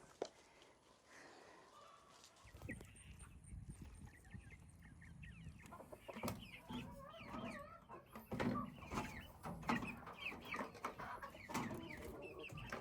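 Chickens let out through a gate cluck and squawk close by in quick, uneven bursts, with a few louder calls standing out over soft rustling on a backyard farm.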